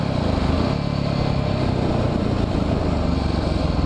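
A Yamaha WR dirt bike engine runs steadily close by, a loud, continuous rough buzzing drone with no clear revving.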